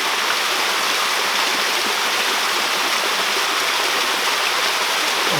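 A small waterfall at the end of a redwood forest trail roars as steady, loud, broadband rushing water, continuous and unbroken with no voices.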